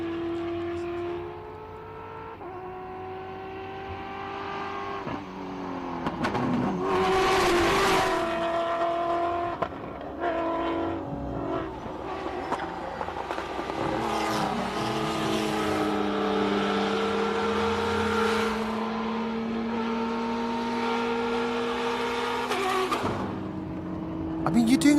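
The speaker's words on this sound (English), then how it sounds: "Here are these magnificent T1 rally raid vehicles, and they just, you know what? We should just listen to them." T1 rally raid vehicles racing up a hillclimb: engines rev and rise through the gears, with a few shifts and some tire noise, loud and close, and someone talking over them at times.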